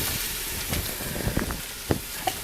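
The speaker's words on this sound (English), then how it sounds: "And you can hear it, a nice sound of the onions cooking." Onions fry in a pot for borscht, giving a soft, steady sizzle with a few faint scattered pops and stirring knocks.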